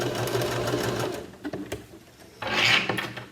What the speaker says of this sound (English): you can just continue to sew